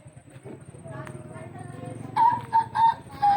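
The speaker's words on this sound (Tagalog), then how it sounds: "Daming manok." Chickens cluck and call in short bursts nearby, with people talking underneath.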